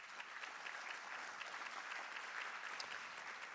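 A room of attendees at a ranked choice voting workshop gives a steady, fairly faint round of applause, even clapping from start to finish with no voices standing out.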